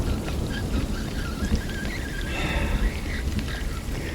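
Steady rain falling outdoors by a fishing spot, a dense constant patter and hiss with no break, moderately loud and close.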